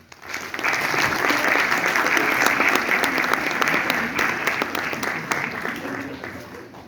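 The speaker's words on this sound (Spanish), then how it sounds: "Por favor, un aplauso." Audience applause greeting a guest speaker at an academic talk on Ecuador, rising quickly and sustained as dense, even clapping for several seconds before slowly thinning toward the end.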